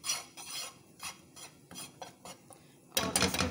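A spatula stirring flour and milk in a pan, heard as a series of soft scraping strokes at a quiet, uneven pace, ending in a louder, rougher scrape.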